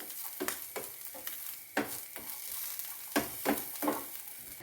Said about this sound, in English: Add 1 teaspoon oil. Roast well until golden brown.